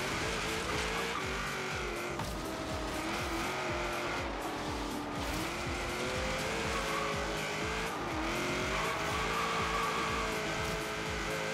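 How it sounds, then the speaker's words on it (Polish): Car engine held at full throttle in the racing game Forza Horizon 3, a loud continuous roar with rising and falling revs and some tire squeal, with no voices over it. "O, teraz wcisnąłem dopiero gaz do końca."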